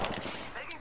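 Rapid gunfire from an Apex Legends match, loud and continuous in a short burst, with a player's voice talking over the shots.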